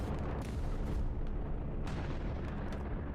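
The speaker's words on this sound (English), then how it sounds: "Bombing run with artillery strikes coming in" Artillery strikes pound the ground in Hell Let Loose, a dense, continuous rumble of booming blasts with sharper bursts rising out of it, loud and with no voices.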